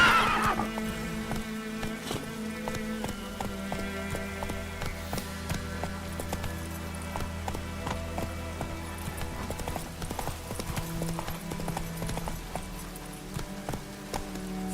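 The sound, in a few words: horse Roach galloping in The Witcher 3 video game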